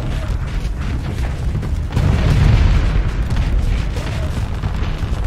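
A rocket barrage pounds a space station in the Starsector video game, a continuous stream of dull booms and low rumbling impacts that swells midway.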